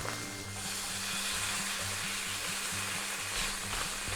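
Thai dry-aged wagyu beef steak, aged 35 days, sizzling steadily on a hot grill just after being flipped, a close, continuous frying hiss with a low rhythmic hum beneath and no talking.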